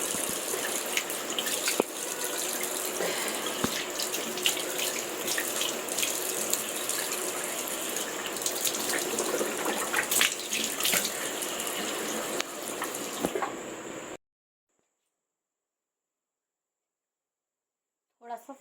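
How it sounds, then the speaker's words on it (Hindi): Tap water runs steadily into a sink while someone washes their face at home, a continuous close splashing gush that stops abruptly, leaving near silence. "पहले थोड़ा सा मुंह धो लेते हैं।"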